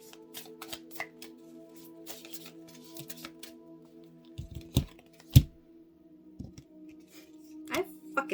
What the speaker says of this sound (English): So I'm going to do 2 oracle cards to wrap this all up for you.